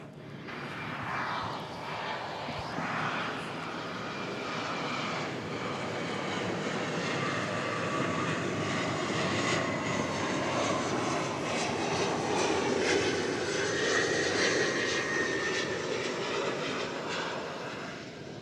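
A jet airliner taxiing toward Terminal D at DFW Airport gives a sustained engine roar with a whining tonal hum and shifting higher tones, fairly loud and continuous, with no talking over it.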